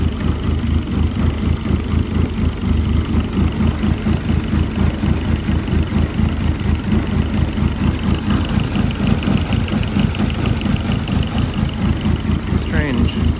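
A Dodge Caliber SRT4 engine idles roughly at mid-range rpm, with a steady, lumpy low-pitched loping pulse that runs close and loud throughout without letting up.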